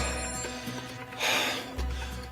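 A telephone rings with an electronic warbling tone, fairly quiet and repeating in short bursts against a faint hum.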